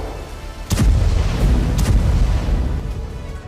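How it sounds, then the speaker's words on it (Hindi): A single heavy bunker buster bomb blast hits with a sudden deep boom, followed by a long rumbling roll of low debris noise that slowly fades over the next few seconds. "अमेरिका का बंकर बस्टर बम उस सुरंग या बंकर को तहस नहस कर देता है"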